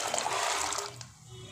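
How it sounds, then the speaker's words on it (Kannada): Heated water is poured from a pot onto fresh field beans in a home kitchen while bean bassaru is being made. A close, steady splashing rush lasts about a second, then fades quickly. "ಈ ನೀರು ಕಾದಿದೆ, ಇದನ್ನು ಇದಕ್ಕೆ ಸೇರಿಸ್ತೀನಿ ನಾನು ನೋಡಿ."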